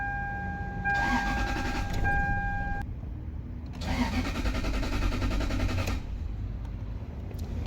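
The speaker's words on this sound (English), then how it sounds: "It cranks but no start." A 2001 Toyota Sequoia engine cranks repeatedly without catching, caused by no fuel delivery from a failed fuel pump; two separate whirring cranking bursts of about two seconds each, close and fairly loud, with a pause between.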